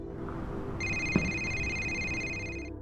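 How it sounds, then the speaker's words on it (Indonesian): A mobile phone strapped to a bomb in an action film rings with a bright, steady electronic tone that starts suddenly and holds for about two seconds over a low rumbling background. "satu ponsel yang diikat di bom itu berdering"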